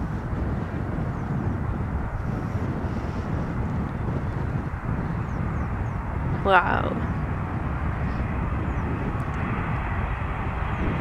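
A four-engine airplane flies overhead near Schiphol with a loud, steady engine roar throughout and wind buffeting the microphone, while a person briefly exclaims partway through.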